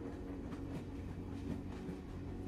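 A train rolling along the tracks while it climbs, a soft continuous low rumble with faint rhythmic clatter, steady and quiet, heard from inside the train.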